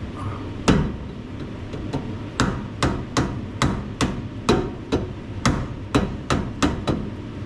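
Large Proto sockets on a 1938 Plymouth truck struck with a hammer, about fourteen sharp metallic blows in a steady, evenly spaced rhythm, close and loud against a quiet shop background.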